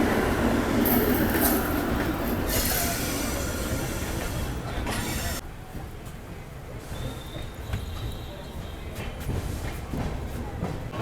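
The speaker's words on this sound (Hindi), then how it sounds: "Here is coming 12488 Anand Vihar Jogbani Seemanchal superfast express." The 12488 Anand Vihar–Jogbani Seemanchal Superfast Express rumbles past close by, a loud continuous roar of wheels and coaches with rattling and a faint squeal, easing slightly as the train carries on.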